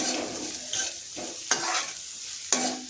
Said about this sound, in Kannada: ಈಗ ಸ್ವೀಟ್ ಕಾರ್ನ ಸೇರಿಸಿ ಇದನ್ನು ಸಹ ಫ್ರೈ ಮಾಡ್ತಾ ಇದ್ದೀನಿ